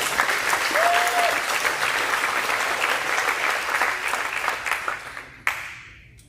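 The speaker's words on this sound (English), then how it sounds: "Let's go ahead and give a round of applause to our boys soccer all-conference." Sustained applause from an audience at a high school athletics banquet honoring boys soccer all-conference players, dense clapping throughout that thins and fades out near the end with a final sharp clap.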